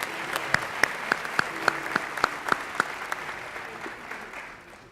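Audience applause at a school district awards ceremony honoring paraprofessionals of the year, a steady wash of clapping with a few sharp, close claps standing out, fading near the end.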